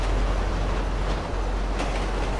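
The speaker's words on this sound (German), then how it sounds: "Also, ich bin auf dem Zug. 616 fährt, glaube ich." A moving train in the video game GTA Online rumbles steadily with a deep low-end roll and continuous wheel noise, holding an even level throughout with no talking.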